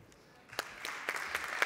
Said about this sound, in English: I ask again a big round of applause for our three speakers